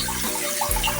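Water pours into a cooking pot on a stove while sinigang with chicken feet is being made, a brief, close, rushing splash.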